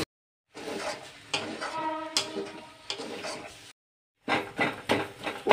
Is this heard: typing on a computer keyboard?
no